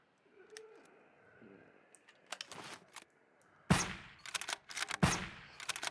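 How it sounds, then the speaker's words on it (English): Gunfire against the boss Big Brutus in the permadeath survival game Surroundead, with sharp shots spaced irregularly and growing heavier toward the end, up close with no talking over it. "Try to get all headshots in to conserve ammo."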